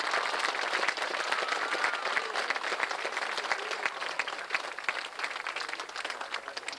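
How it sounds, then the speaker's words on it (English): A crowd claps steadily at a 1986 Donegal GAA county minor football final trophy presentation, dense even applause heard from a moderate distance and fading slightly toward the end. "A round of applause, please."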